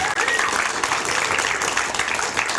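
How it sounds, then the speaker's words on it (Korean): Studio audience applause on a Korean talk show, dense continuous clapping filling the whole stretch, loud and close with no pauses. "여러분 큰 박수 한번 부탁드리겠습니다"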